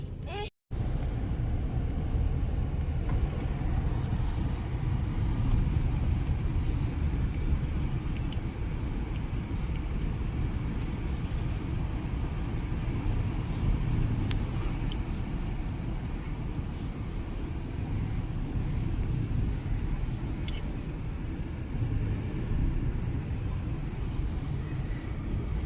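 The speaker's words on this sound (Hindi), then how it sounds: "इधर बहुत ज्यादा ट्रैफिक हो रहा है।" Heavy road traffic in Jharkhand, India, rolls past as a constant, dense roar of engines and tires, with occasional faint horn-like blips rising over the steady wash.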